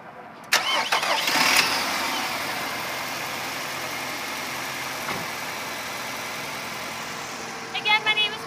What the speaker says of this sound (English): I'll go ahead and pop open the hood and get it started for you.